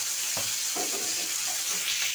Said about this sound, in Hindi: और तेल गर्म होने के बाद डाल देंगे ये चॉप किया हुआ प्याज